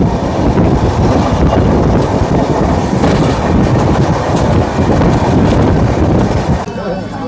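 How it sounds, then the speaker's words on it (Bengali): The Kandari Express rolls on after pulling out of Mecheda, heard from inside as a loud, steady rumble and rattle of the train with wind noise throughout, easing slightly near the end. "মেচেদা থেকে ট্রেন আমাদের ছেড়ে দিল, আর এর পরের হল স্টপেজ হচ্ছে তমলুক।"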